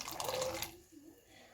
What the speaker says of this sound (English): So just add in the chickpeas with the water.